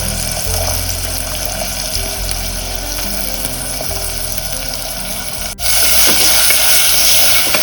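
Chopped onion fries in a pan for Goan prawn pulao, giving a loud steady sizzle with stirring scrapes, which jumps louder after a brief dip partway through.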